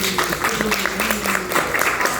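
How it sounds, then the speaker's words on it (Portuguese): An audience at a poetry reading applauds after a poem, producing steady, dense clapping from many hands with faint voices mixed underneath. "Aplausos"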